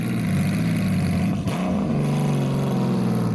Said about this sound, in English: the Honda Valkyrie.